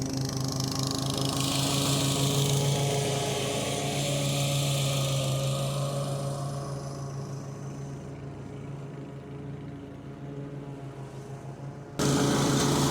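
A Toro Timemaster 30-inch walk-behind lawn mower runs steadily while mowing a lawn, its engine drone loud and close throughout, with a slight dip midway and a brief jump in level near the end.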